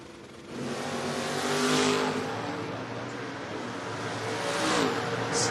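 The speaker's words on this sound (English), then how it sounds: "Mustang versus Camaro" Mustang and Camaro launch side by side in a Door Wars drag race, engines roaring loud and close with rising revs and a faint tire squeal, steady and full for several seconds.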